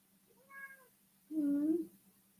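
A house cat cries with two meows close by, a short thin one followed by a longer, louder plaintive call, heard alone in a quiet room.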